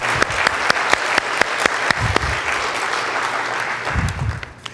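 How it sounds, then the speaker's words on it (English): Audience at an Earth Day sermon in a Unity church applauds in a steady, full round of clapping with a few sharp claps standing out, then fading near the end. "One more round of applause."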